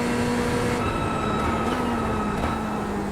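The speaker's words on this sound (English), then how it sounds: "this is what the car sounds like from inside the car" A race car engine in the iRacing sim, heard from the cockpit, gives a steady, droning hum at constant pitch, loud and continuous, with a faint whine riding on top.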